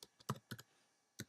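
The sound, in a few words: typing an email address on a computer keyboard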